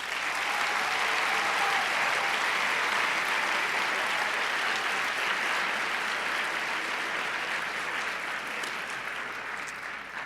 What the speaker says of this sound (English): really a loud round of applause for my family